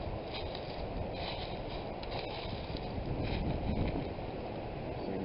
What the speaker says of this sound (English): I'm not hearing probably nothing but a bunch of wind right here